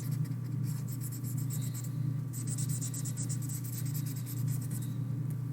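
Marker or crayon coloring stripes on paper for a bee collage, continuous rapid back-and-forth scratchy strokes in bursts with brief pauses, close up over a low steady hum.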